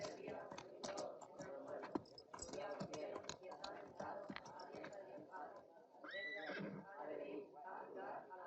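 A horse whinnies with a rising, wavering cry around the sixth second, rising over a busy Western action scene with dialogue, hoofbeat-like thumps and movement noise throughout.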